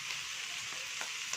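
Steady hiss and crackle of pork belly sizzling in a pan as soda is poured in, a continuous close frying sound with small pops, no voices.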